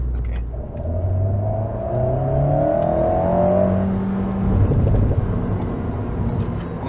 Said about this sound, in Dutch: Wat we ook net hebben opgemerkt zijn de uitlaatroffels.